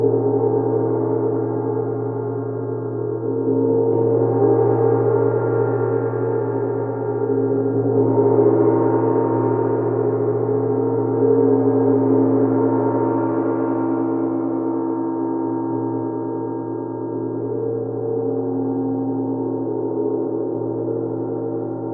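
A gong played with a small Series 5 mallet on a flexible shaft rings as a steady, layered metallic drone, swelling and easing in loudness over about twenty seconds without a clear break.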